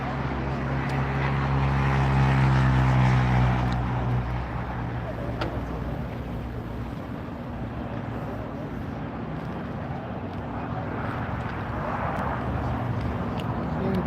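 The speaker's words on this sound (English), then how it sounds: "Dreamliner coming in." Boeing Dreamliner jet arriving at LAX, a moderately loud engine drone with a strong low hum that peaks early and then fades to a softer steady rumble.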